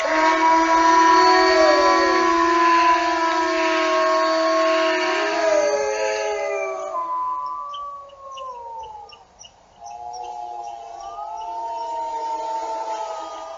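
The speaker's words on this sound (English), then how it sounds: "That's actually real wolves howling right there." Real wolves howling together, several long wavering tones rising and falling and overlapping in a layered chorus, strong at first, then thinning to a few voices before swelling again, with no talking.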